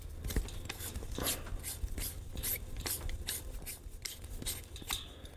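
Microphone being screwed onto a boom arm while new audio gear is unboxed: close, continuous scraping ratchet-like threading with rhythmic ticks and rubs, loud and steady with no talking.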